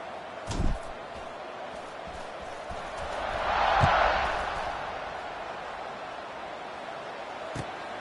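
A stadium crowd in the College Football 26 video game swells into a broad roar that peaks and fades, with a brief thump early and commentary faintly present.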